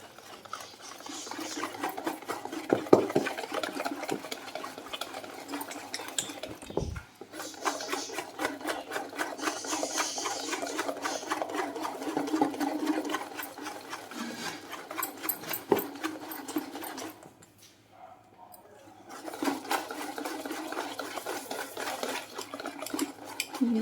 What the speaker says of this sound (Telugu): ఒకే డైరెక్షన్లో మనం మిక్స్ చేసుకోవాలి. ఓకే, లంప్స్ ఏమీ లేకుండా బాగా మిక్స్ చేయాలి.